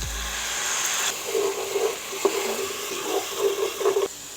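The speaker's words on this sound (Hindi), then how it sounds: "अब ये सारे मसालों को हम साथ में इससे अच्छी तरह भून लेंगे।" Spices fry in a pan for cauliflower kebab curry, a steady close sizzle and hiss broken by repeated soft scrapes and clinks of stirring.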